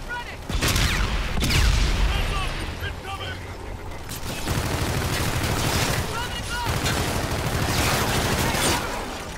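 A grenade blast in a video game lands as a loud boom near the start, followed by rattling gunfire and mechanical clatter, with a voice talking over the action.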